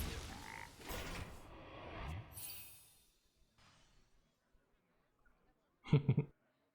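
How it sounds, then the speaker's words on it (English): A frog croaks from a frog-launcher staff in a video game. One short, loud croak sounds near the end, after quieter game effects. "You point it and then a frog jumps out."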